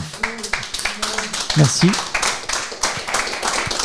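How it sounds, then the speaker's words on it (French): Live audience at a French talk show applauding a guest, a loose patter of hand claps under close speech, with a brief spoken thanks over it. "je pense qu'on peut l'applaudir"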